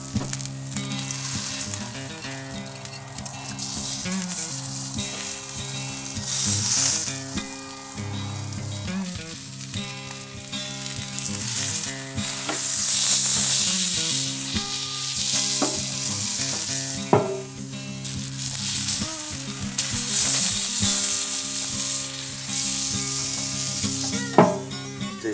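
A tomahawk ribeye steak sears on an Oklahoma Joe's Rambler grill with a loud, continuous sizzle that swells and eases, marked by occasional sharp pops and crackles, with no talking.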